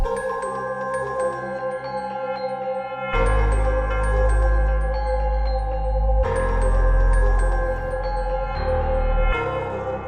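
Beat melody with a reversed tubular bell sample plays, bright swelling bell tones layered over steady tonal chords, with deep bass pulses entering in repeating sections, loud and with no voices.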